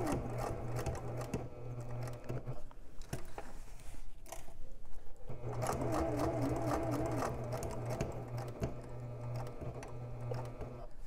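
A sewing machine runs top stitching along a fabric edge, its rapid needle buzz going in two close bursts with a brief pause between them, with light handling clicks in the gap.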